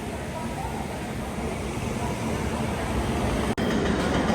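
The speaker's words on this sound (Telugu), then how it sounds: "WAG 9 లోకోమోటివ్ అయితే వచ్చేస్తుంది మన ట్రైన్ ప్లాట్ఫామ్ నెంబర్ 3కి" A WAG 9 electric locomotive hauls the Kakatiya Express into platform 3, a steady loud rumble of wheels and rolling stock filling the whole stretch with barely a pause, faint voices mixed in.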